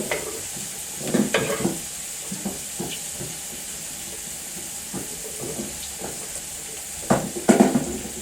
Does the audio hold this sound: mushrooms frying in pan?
yes